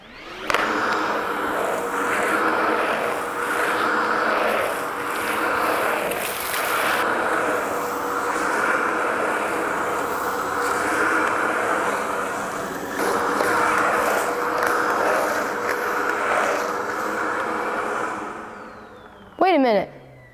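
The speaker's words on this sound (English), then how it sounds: "let's get to vacuuming" Cordless vacuum cleaner running in a workshop: a loud, steady motor whine and airflow rush held close for nearly twenty seconds, dipping only slightly before cutting off near the end.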